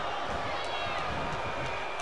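Video game wrestling crowd from WWE 2K24 roars in a steady, dense wash of cheering and noise throughout, with a commentator's voice faintly mixed in.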